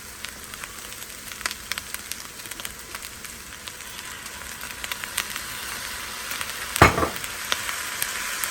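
Soy sauce poured into sizzling Korean fried rice with vegetables in a pan, a steady crackling fry with scattered pops and a brief louder hiss near the end.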